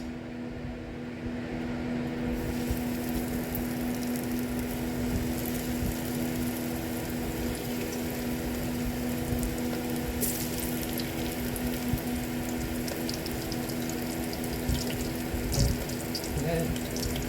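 Chicken pieces sizzling and crackling steadily in hot oil for a home-cooked fried chicken meal, a continuous close bubbling hiss with a low hum underneath and no talking.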